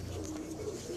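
High flyer pigeons give a soft, low coo, close by and alone, lasting only a moment.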